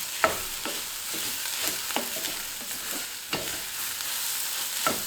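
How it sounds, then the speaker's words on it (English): Tomatoes and vegetables sizzle steadily in a hot pan for a high-protein breakfast while a utensil stirs them, giving repeated scraping clicks over the constant frying hiss. "I'm gonna add the tomatoes in. Give it a little stir here."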